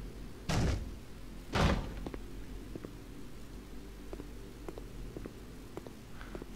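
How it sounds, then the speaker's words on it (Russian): Two heavy knocks on a door in the horror game Statues, loud and close about a second apart, followed by a quiet, faint hum with scattered small ticks. "Кто стучится в дверь ко мне?"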